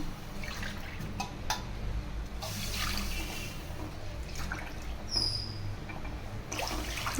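Steady pouring of water into a pot runs continuously for several seconds with a soft, splashy hiss and no voices.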